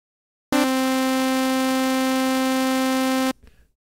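A Kilohearts Phase Plant software synth sounds a bright, buzzy, harmonically rich sustained test tone for about three seconds, steady and loud, then stops abruptly with a faint tail.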